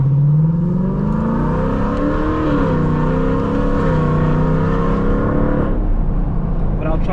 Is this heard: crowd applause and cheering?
no